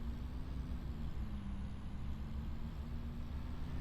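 A Ford truck pulling a load drives steadily along in Farming Simulator, a continuous low engine drone with a faint whine, alone and without talk.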